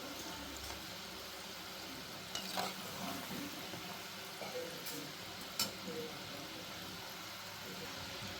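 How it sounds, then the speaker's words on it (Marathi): Maggi noodles and potato fingers deep frying in hot oil, a steady soft sizzle with faint crackles and occasional louder pops and clinks, heard close and alone. "आता मस्त फ्राय होत आहे, कलरही चेंज होतोय, ब्राऊन कलर येतोय"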